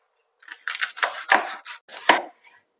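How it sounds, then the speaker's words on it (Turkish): A knife coarsely chops village peppers on a board, about eight or nine crisp strokes in an uneven rhythm, close up and clear. "Köy biberlerini de aynı büyüklükte gördüğünüz gibi irice doğrayacağım."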